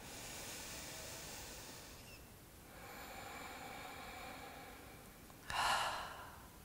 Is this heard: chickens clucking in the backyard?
no